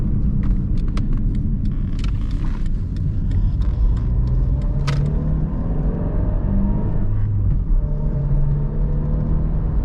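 A 2001 Fiat Brava 1.6 16v drives along with a steady engine drone and road rumble, the motor pulling and revving continuously with no one speaking.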